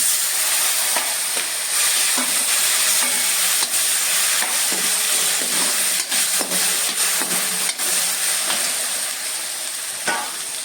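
Chopped tomatoes sizzle in a spiced oil tempering with turmeric, making a steady, close frying hiss with occasional stirring scrapes and clinks, and no talking.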